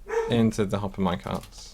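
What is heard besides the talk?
dog barking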